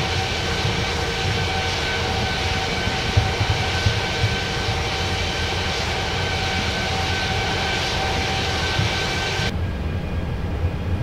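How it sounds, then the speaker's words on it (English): Airbus A330-300 jet engines during takeoff in the FSX flight simulator, a loud, steady broadband roar with high whining tones that holds throughout, then drops slightly near the end; no one talks. "the takeoff noise is like so realistic"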